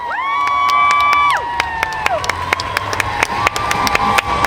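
Crowd at an anime convention cosplay skit contest cheers with high sustained whoops and shouts at first, then settles into scattered clapping and cheering that continues to the end.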